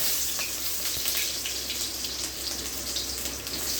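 Onions sizzle in a hot pan as a Bengali home cook prepares a new dish, a steady dense crackle and hiss running close and even throughout with no talk over it.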